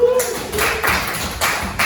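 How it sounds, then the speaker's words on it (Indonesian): A short burst of clapping from a classroom group, patting along in uneven bursts with some voices mixed in. "Tepuk tangan untuk kelompok."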